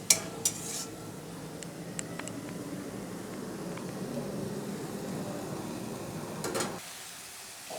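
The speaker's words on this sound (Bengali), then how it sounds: "আমি কষাবো।" A utensil stirs onions frying in a pan, with a few sharp clinks at the start and near the end over a low, steady hiss of cooking.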